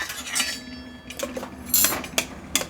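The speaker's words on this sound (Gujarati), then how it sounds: "આ છેલ્લે આપણે કોથમીર નાખી અને હલાવી લઈશું" A spoon stirs corn and capsicum with coriander in a bowl, giving a handful of sharp, close clinks and scrapes against the dish, spaced irregularly over a quiet background.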